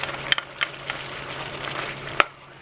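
Turkey and tomato meat sauce sizzling softly in a pan while being gently stirred, with a few sharp utensil scrapes and taps against the pan over a quiet steady fry.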